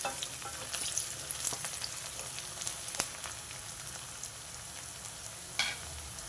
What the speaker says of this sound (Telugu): ఉల్లిపాయలు చక్కగా వేగిపోయినాయండి.